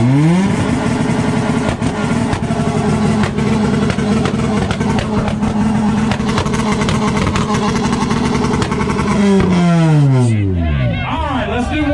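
Car engines rev hard at a 2-step competition at IFO Rockingham, North Carolina, in 2020. Loud, sustained, crackling revs run over crowd babble, then the pitch sweeps down as the throttle drops near the end.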